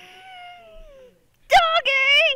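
A cat meows twice in quick succession, loud and close, with a rising then sustained tonal cry, following a quieter stretch of fainter voicing.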